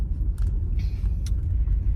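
A car drives along a road in Sweetland, Manchester, Jamaica, heard from inside as a steady low rumble of road and engine noise, with a few faint brief clicks and rustles on top.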